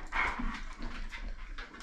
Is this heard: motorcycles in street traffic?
no